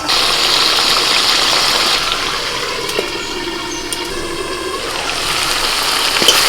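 Potatoes being stir-fried with spices in a pan give a loud, steady hissing sizzle that fills the whole moment, softening briefly in the middle before rising again.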